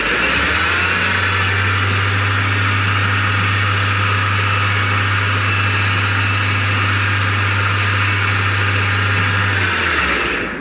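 A mini lathe headstock with adjusted gears running steadily at high speed, a constant loud whine with a strong low hum that holds evenly throughout before stopping near the end.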